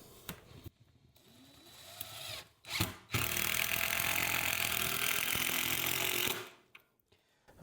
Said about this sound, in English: So I'm going to put a screw down here in the bottom.